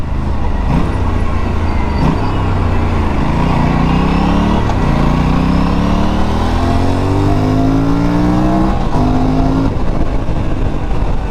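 An Aprilia RS 457 sport motorcycle engine revs repeatedly up close, loud exhaust rising in pitch with each throttle blip and settling back to idle between.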